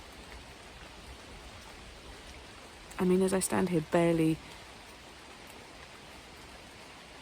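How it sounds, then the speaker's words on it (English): Steady rain falls on autumn leaves outdoors, a constant soft patter that runs all the way through, with someone talking briefly near the middle. "you can really hear the rain is coming down now, actually."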